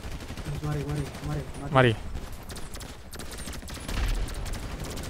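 A Gatling gun fires in a GTA casino mission, rapid bursts of gunfire rattling in the second half under a player's talking.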